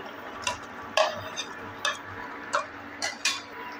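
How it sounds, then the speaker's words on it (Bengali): Fried paneer cubes tipped into a pan of matar paneer curry and stirred with a utensil, giving a series of distinct scraping clinks at a steady pace, close up with a soft background hum. "এবার দিয়ে দিচ্ছি ভেজে রাখা পনির।"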